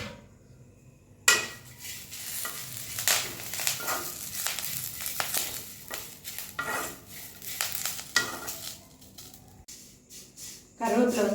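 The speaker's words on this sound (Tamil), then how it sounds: "கருவேப்பிலை வந்து நல்லா ஃப்ரை ஆகிடுச்சு" Curry leaves fry in a pan for iron-rich curry leaf powder, with a sizzling crackle and repeated scraping stirs and clinks of a utensil against the pan, while a voice speaks over it.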